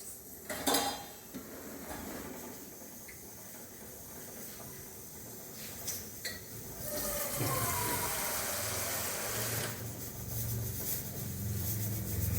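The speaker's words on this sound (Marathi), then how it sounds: "मी आणखीन पाणी टाकते आणि ते धुवून घेते चांगलं" Dishes and utensils clink close by, then a steady hiss of water poured to wash butter made from milk cream fills the second half; no one speaks.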